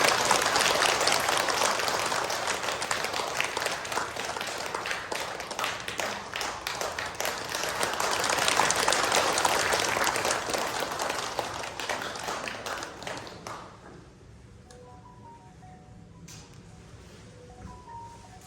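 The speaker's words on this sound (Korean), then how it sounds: "큰 박수 부탁드립니다." An audience at a Buddhist temple applauds warmly during a flower bouquet presentation to a monk. The clapping is steady and full for about thirteen seconds, then fades to scattered claps over quiet room ambience.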